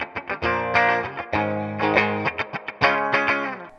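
Electric guitar with effects plays the Smells Like Teen Spirit melody, a short phrase of distinct plucked notes with clear gaps, close and alone.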